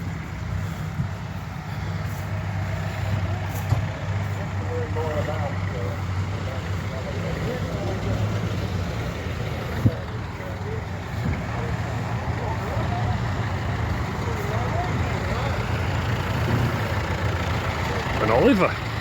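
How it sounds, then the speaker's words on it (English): Vintage tractors on a local tractor run arrive at an agricultural show, their engines chugging and idling at a steady mid distance, while people talk over the rumble. "Local tractor run just arriving."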